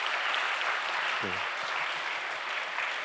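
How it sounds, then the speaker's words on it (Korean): A church congregation applauds together, a steady wash of clapping that holds evenly throughout, with a faint voice briefly under it. "우리 또 격려하는 의미에서 박수 주셨으면 감사하겠습니다."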